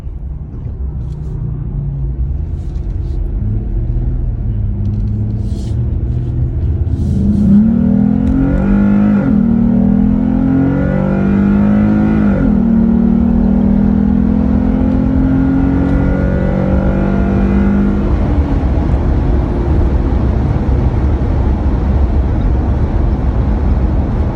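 Jeep Gladiator fitted with an S&B cold air intake accelerating hard out of a corner, engine note climbing in pitch as revs rise, loud and close, holding a strong rumble for many seconds before easing off.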